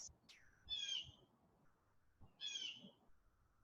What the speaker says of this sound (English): That bird's quite loud.